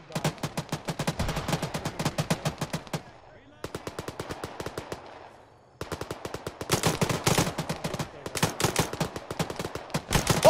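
Video game gunfire in a military shooter, with bursts of rapid automatic fire and single shots in loud clusters, a brief lull, then heavier, denser volleys toward the end.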